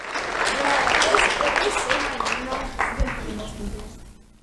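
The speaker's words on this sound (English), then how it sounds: "Let's have a round of applause for Enrique Cervantes." An audience at a monthly community awards ceremony applauds a winner, the clapping swelling, peaking and then tapering off with some voices mixed in.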